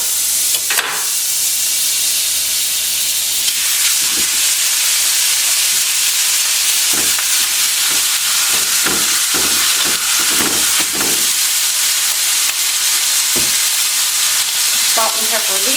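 Pork chops fry in butter in a pan, giving a loud, steady sizzle with bursts of spitting and crackling and occasional utensil clatter throughout.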